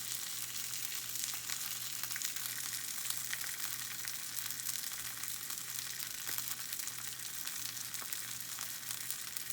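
Steady, even sizzle of a steak searing in a hot pan just after being flipped, a dense hiss of frying with a low hum beneath and no talk.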